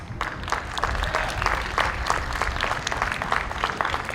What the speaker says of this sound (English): Please give yourself a round of applause for supporting pre-kindergarten and being our superheroes.